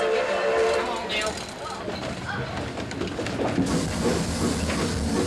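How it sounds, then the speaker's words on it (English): A train at Knott's Berry Farm rolls along the rails with a steady rumble and a clattering mechanical wash, a whistle-like tone near the start, and faint voices mixed in. "This great train, the first that dared penetrate the Rocky Mountains"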